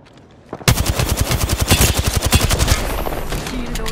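Rapid automatic gunfire in the battle royale shooter Apex Legends bursts in after a quiet moment, a loud, close, steady rattle of evenly spaced shots lasting a couple of seconds before easing into a softer wash of sound.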